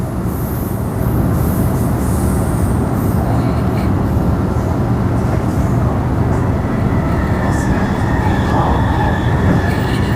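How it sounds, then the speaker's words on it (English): A Mandurah line passenger train rumbles steadily past close by, a loud continuous roar of wheels on rails with faint squeals riding over it. "another Mandurah train there"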